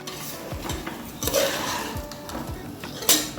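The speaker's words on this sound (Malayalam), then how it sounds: "ഇത് നന്നായിട്ട് ഇളക്കി യോജിപ്പിക്കുക" Rice scraped and stirred around a pot of veg biryani with a utensil, with soft clinks and a faint sizzle underneath, close up and without speech.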